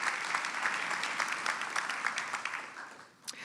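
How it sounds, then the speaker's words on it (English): A large audience at an award ceremony honoring desegregation trailblazers claps steadily in a dense, continuous wash of applause that tapers off near the end. "Everybody give them a round of applause."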